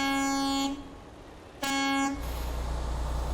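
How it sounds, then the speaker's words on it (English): A truck horn in the driving game American Truck Simulator sounds two loud, deep, rich blasts, the second one shorter. A low engine rumble continues after them, with no talk. "Sounds more like a ferry horn, actually, doesn't it?"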